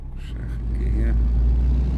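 A car engine pulls in second gear on an outback Australian road, a low steady rumble that swells as the vehicle gathers speed, near and continuous under brief talk at the start.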